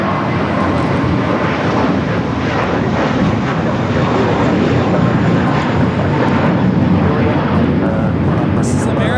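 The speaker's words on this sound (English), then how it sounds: "This is American Airlines Flight 4 taking off to JFK on the A321." American Airlines Airbus A321 taking off at LAX, a steady, dense roar of jet engines filling the whole stretch without a break, loud and constant, with speech over it.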